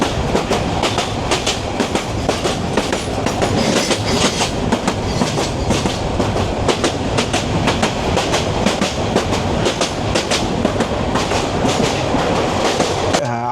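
A train on the Dhaka to Kishoreganj route in Bangladesh runs with a dense, continuous rumble and rhythmic clickety-clack of wheels on rail joints, loud and steady from start to finish.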